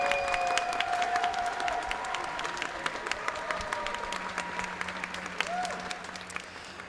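An audience at a gamescom awards stage applauds continuously, a dense patter of clapping at moderate distance, with faint tones drifting over it.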